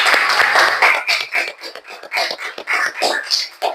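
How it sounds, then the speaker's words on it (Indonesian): Classroom group of students clapping hands together in irregular bursts of claps, loud and close, with some voices mixed in. "Tepuk tangan untuk kita semua."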